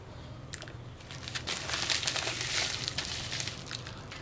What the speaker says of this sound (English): I'm going to open up his parcel now